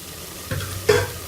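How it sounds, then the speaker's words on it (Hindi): A spoonful of ghee goes into cooked minced meat in a pan for keema aloo patties, giving a soft sizzle and two brief stirring scrapes close by with no voices. "यहाँ 1 चम्मच घी की डाल देंगे।"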